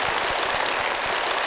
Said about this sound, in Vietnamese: vỗ tay cho bạn Thảo với tự tin thế